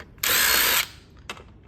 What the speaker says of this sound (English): I do use a drill,